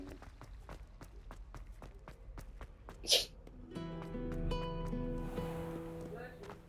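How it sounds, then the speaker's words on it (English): One sharp sneeze bursts out midway through a stretch of rhythmic thumping footsteps, followed by a tonal music passage; talking is present. "oh, I sneezed and you didn't say nothing."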